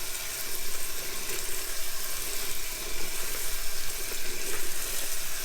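Tap water runs steadily into a sink while saskatoon berries are washed, a continuous close hiss and splash with no talk.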